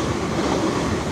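Class 444 electric multiple unit 444028 passing through St Denys station on a Weymouth service, a steady loud rumble of wheels and carriages rolling close by with no pauses.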